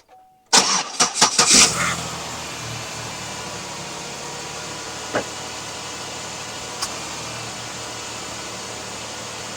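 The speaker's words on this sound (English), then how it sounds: "That started off really sluggish." A 2011 Chevrolet Impala engine cranks sluggishly through several slow, loud turns, then catches and settles into a steady idle with faint hum, close by and without talk.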